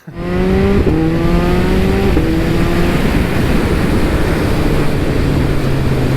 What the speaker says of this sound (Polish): O, fajnie brzmi ten wydech